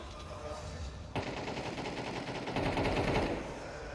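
Counter-Strike 2 rifle fire during a professional esports match has rapid bursts of automatic shots, steady and fairly dense, that grow stronger partway through, heard under a quiet commentary voice and game ambience.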